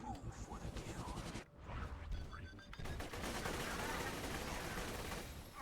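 Dense, rapid gunfire from the Lead Storm weapon in Borderlands 2, steady bursts with a brief pause and crackling impacts, mixed with game effects and someone talking over it.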